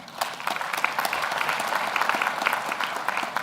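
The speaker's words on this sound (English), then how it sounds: "Can we have another round of applause for him?" An audience at a university graduation ceremony gives a round of applause, with many individual claps distinct within a steady, moderately loud patter that continues throughout.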